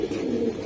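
Silver pigeons coo in a steady, continuous low murmur throughout, close and moderately loud, with no voices over it.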